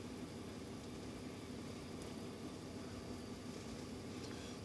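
The diesel engine of a 2016 Ram 3500 Laramie Longhorn Mega Cab pickup idles in a low, steady rumble, constant and moderately loud throughout with no talk over it.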